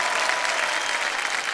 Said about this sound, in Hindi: बहुत सारे सही उत्तर आपने दिए चित्रा जी, और एक बार फिर तालियों के साथ आपका अभिनंदन।